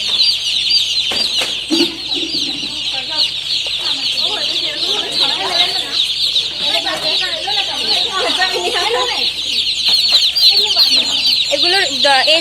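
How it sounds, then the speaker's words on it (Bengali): One-day-old chicks at a poultry farm cheep in a dense, continuous high-pitched chorus, loud and close, with people talking underneath throughout. "এই প্রত্যেকটা মুরগির এজ একদিন, জাস্ট একদিন"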